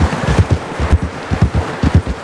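Horse hooves in Red Dead Redemption 2, a quick steady clip-clop of a galloping horse, loud and close, with evenly spaced thuds continuing throughout and no talking.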